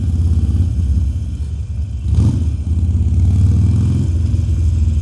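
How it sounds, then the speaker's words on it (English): A Harley-Davidson V-twin motorcycle engine runs close by with a deep, throbbing idle and a brief rev partway through, then settles back into its low rumble. "It's a beast of an engine. V-twin, seriously kicks ass."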